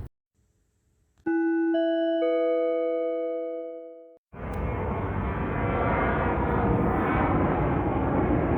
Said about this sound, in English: you're listening to the sound of that plane